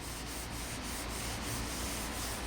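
Steady, dry rubbing friction of a hand over contaminated paint on a 2006 Corvette C6 Z06, a continuous gritty scrape with faint periodic swishes, close and moderately quiet, no voices.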